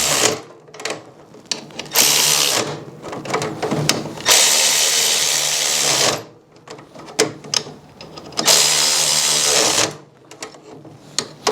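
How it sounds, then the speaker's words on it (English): Electric ratchet working on an Ariens snow blower, loud whirring bursts in several repeated runs of about two seconds each, separated by short pauses and small clicks, close by with no talking. "I'm using the electric ratchet because I am a show-off"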